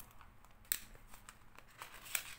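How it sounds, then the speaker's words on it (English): Faint snips of scissors nicking paper for a grungy handmade journal, a few short crisp cuts and crinkles at close range with no talk. "Just do a little nick with the scissors."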